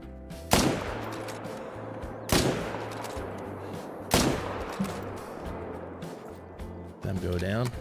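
Three loud, sharp rifle shots spaced a couple of seconds apart while hunting black bears in a hunting video game, each with a booming tail, over a low background and occasional talk.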